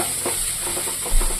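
Chilies, ginger and bay leaf sizzle in hot oil for butter chicken masala, a steady close frying hiss with faint stirring scrapes throughout and a brief louder burst near the end; no voices.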